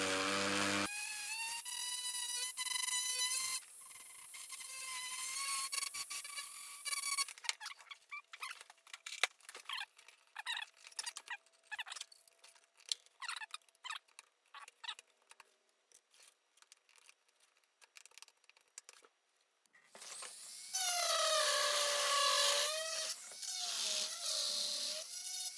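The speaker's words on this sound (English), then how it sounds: "Now I'm going to more of an abrasive bit to kind of smooth out this surface." A rotary tool with an abrasive bit smooths the surface of an extruder handle die: a high whine at the start and end, with a stretch of scraping, rattling grinding bursts in between.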